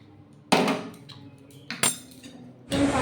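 Cooked potato and pointed gourd curry scraped into a bowl, with a few distinct metal spoon clinks against the dish separated by brief quiet gaps.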